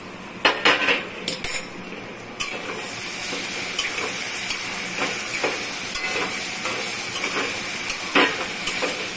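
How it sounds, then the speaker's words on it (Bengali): A metal lid is lifted off a pot of kochur loti cooking with dried fish, giving a few sharp metallic clanks at the start, then a steady hiss of steam with occasional light clinks. "এখন ঢাকনাটা তুলবো।"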